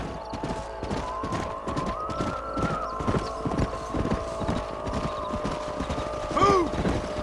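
Horses clip-clopping in the Red Dead Redemption video game, a steady rhythmic trot of hooves under a low hum, with a brief whinny near the end.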